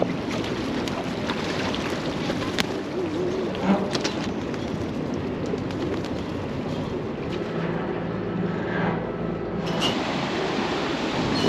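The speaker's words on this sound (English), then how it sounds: "Looks like this is our boat coming here." An express boat approaches along a river in Bangkok's Chinatown area, heard as a continuous low engine rumble with wind and water noise, fairly loud and steady, with faint background sounds scattered through.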